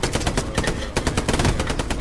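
Rapid automatic gunfire from the World War II shooter Hell Let Loose rattles out in quick, loud bursts of closely spaced shots that barely pause for two seconds.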